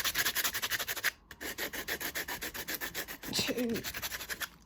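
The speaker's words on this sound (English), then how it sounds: "I'm going to use it's quite coarse sandpaper" Coarse sandpaper scrubs back and forth by hand over a textured surface in quick rhythmic strokes, close and fairly quiet, with a brief pause partway through.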